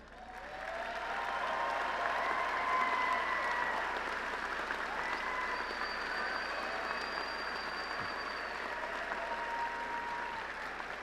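Graduates' parents at a university engineering commencement receive applause from the crowd, a broad wash of clapping that swells and holds steady in a large hall, fairly distant and even, with no one speaking over it.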